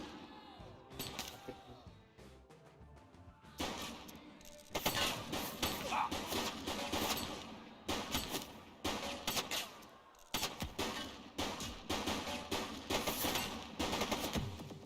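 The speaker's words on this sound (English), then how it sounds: "He's shooting!" Gunfire in the police video game The Precinct: bursts of rapid shots and crashing impacts come in repeated loud clusters over a music and effects bed, with a brief quiet gap partway through.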